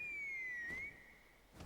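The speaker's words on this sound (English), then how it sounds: "That sounded like a whistle." A shrill whistle in a video game, sounding as one long, steady, slightly falling tone that stops abruptly, followed by a quieter pause and a brief short chirp at the very end.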